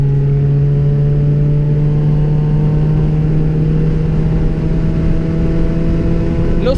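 A car driven hard around a race track at a first track day in Argentina, its engine holding a loud, steady, close drone through the whole stretch with a slight rising pitch.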